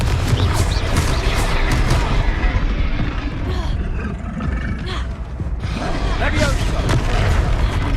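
Confringo blasting spells in Hogwarts Legacy go off amid a dense, loud combat din of booming impacts and crackling bursts, with a brief lull in the middle before the explosions resume.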